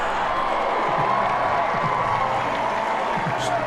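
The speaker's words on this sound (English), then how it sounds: "listen to this crowd. They are on their feet, yelling" A packed college football stadium crowd at an FCS semifinal playoff between James Madison and Sam Houston roars steadily, standing and yelling in a dense wall of cheering, with a commentator's voice over it.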